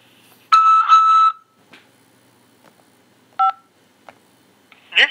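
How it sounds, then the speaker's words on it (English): Telephone keypad DTMF tones on a jail collect-call line: a clear, loud two-part tone burst near the start, then shorter, fainter beeps and a final brief tone, with silence between. "After the beep, press 5 to accept this call."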